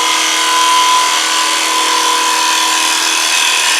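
A wood lathe spins a dried green-wood bowl blank under the turning tool, giving a steady, loud, unbroken whir and hiss with a faint tonal hum, and no one speaks.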